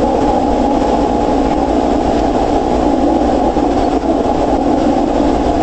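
Loud, steady broadband hiss and rumble of 160-meter band radio receiver static, constant throughout with no voices.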